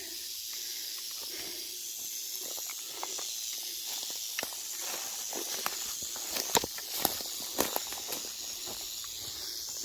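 A big, coiled snake on the Appalachian Trail in Shenandoah hisses steadily, a constant airy hiss near the ground with scattered rustles and footstep-like crunches, quiet and without talk.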